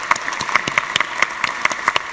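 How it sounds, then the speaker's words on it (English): Applause from a conference plenary audience, a modest, even spatter of hands with a few louder individual claps recurring, fairly brief and steady. "give him a round of applause"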